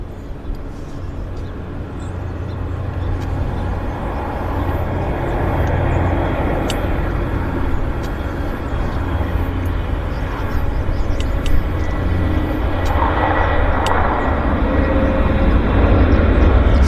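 A jet landing at Vancouver International Airport (YVR) produces a steady, broad engine roar that builds in loudness and stays continuous throughout, with a faint whine on top and no talking.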